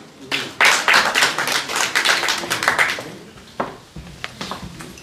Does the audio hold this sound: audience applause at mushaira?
yes